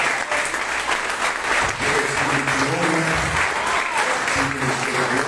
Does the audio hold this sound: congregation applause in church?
yes